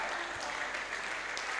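Sustained applause from an audience at a Rotary youth leadership gathering, many hands clapping in a thick, even roar that holds steady throughout with no talk over it.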